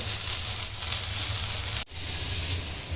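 Chicken fries in hot oil with a constant bright sizzle and hiss, broken once by a brief sharp dropout before the frying noise resumes at the same steady level.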